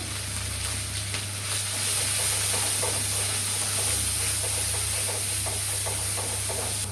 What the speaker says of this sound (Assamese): নাৰিকল, সৰিয়হ, কাজু এইখিনি অলপমান ভাজি ল'ম।